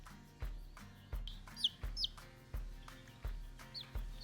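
Baby chicks on a small farm cluck and peep around a brooder, with several soft, close calls and a few higher chirps repeating at a loose rhythm against a quiet background.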